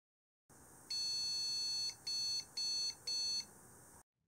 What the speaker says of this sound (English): at least we are getting the same video card error beeps